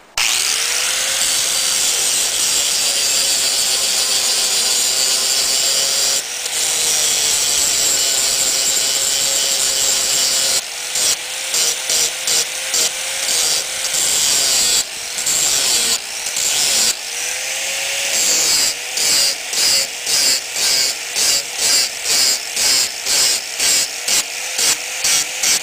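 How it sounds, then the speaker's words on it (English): An angle grinder cuts down a beveled weld on a steel dual permanent magnet wind turbine rotor outdoors on a windy night. A loud, continuous harsh grind gives way to rapid choppy bursts as the tool is pulsed against the metal. "grind down into these a little bit and make a little valley where you can sink your weld into"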